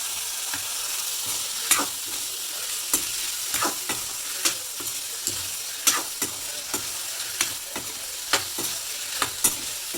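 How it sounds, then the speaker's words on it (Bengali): Khaisa beans sautéing with dried ribbonfish in a pan, a steady close sizzle broken by a series of sharp scraping stirs at irregular intervals, with no talking. "এভাবে চার থেকে পাঁচ মিনিট একটু কষিয়ে নিতে হবে যাতে ভালোভাবে সিদ্ধ হয়"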